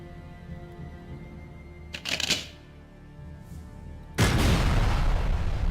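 A cannon-like weapon fires in the video game ELEX. A sharp crack lands partway through, then after a pause a loud, sustained roaring blast fills the rest, all over a faint steady hum.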